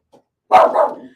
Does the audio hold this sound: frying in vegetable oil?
no